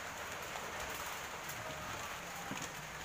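Steady rain patters on surfaces in a constant soft hiss, with occasional louder drips.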